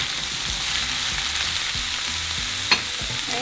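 Seasoned calabacitas and bell pepper with minced garlic, herbs and black pepper are stirred in a hot pan, giving a steady sizzle and soft scraping, with one sharp clink of a utensil near the end.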